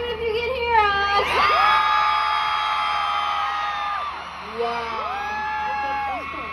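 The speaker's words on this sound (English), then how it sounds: "Everyone in the back, scream if you can hear us!" Stadium concert crowd at a concert tour show in Abu Dhabi, a loud sustained wave of screaming and cheering that swells and fades, with amplified voices over it.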